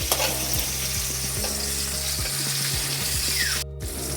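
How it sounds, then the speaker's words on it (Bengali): Pumpkin slices fry in a pan with a steady, loud, dense sizzle that holds for the whole stretch, with occasional light stirring scrapes, close by and with no talk. "কুমড়ো ভাজা হচ্ছে"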